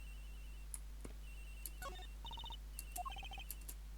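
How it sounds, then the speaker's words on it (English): A phone rings in the Ace Attorney Investigations video game as short electronic melodic chirps and beeps in bursts, faint against a steady low hum. "Agent Hicks's phone is ringing from somewhere, sir."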